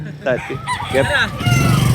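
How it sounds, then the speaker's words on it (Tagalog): Fighting roosters for sale at a pet market call out in close, loud bursts, a few quick crows and honking squawks over busy background noise. "Bentahan ng mga manok, mga panabong."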